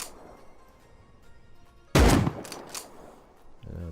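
A scoped rifle in the video game Rust fires a burst of sharp, loud shots after a quiet stretch, followed by a fainter rumble near the end.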